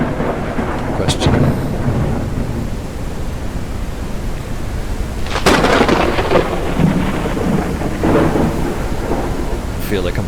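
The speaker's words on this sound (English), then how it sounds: "Wow, that is a storm." A thunderstorm in the video game Forever Skies roars with dense rain-like hiss and wind, broken by two loud thunder cracks and rumbles, with no talking.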